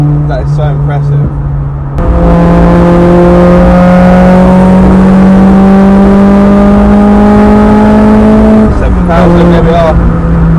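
A Honda Civic Type R EP3 engine revs loud and close, holding a steady climbing note for several seconds before dropping back, with no talking during the pull.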